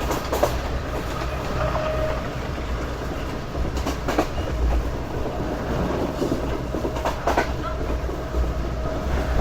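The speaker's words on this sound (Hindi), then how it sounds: "तो कुछ इस तरह की स्पीड में ट्रेन हमारी आगे बढ़ रही है" Pak Business Express train running along a busy chord line, a steady loud rumble of wheels on rails with rhythmic clickety-clack beats over the rolling carriage noise, heard from on board.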